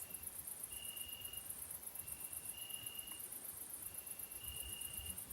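Crickets chirp continuously in a quiet outdoor night setting, forming a soft, steady trill with faint thin tones drifting in and out. No voices or other sounds intrude.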